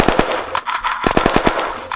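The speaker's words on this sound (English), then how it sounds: "Are you the one doing gunfire" Machine gun fire in the video game Unturned, sounding as rapid bursts of loud, sharp shots with a short pause partway through before the firing resumes, close and dominant.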